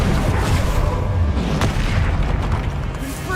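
Bombarda and Confringo spell blasts in Hogwarts Legacy: a continuous dense roar of booming explosions and crackling bursts, loud and close throughout with no pause.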